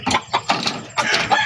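A labuyo, a red junglefowl rooster, gives a quick series of close, loud clucks and short calls in choppy bursts, with no talking.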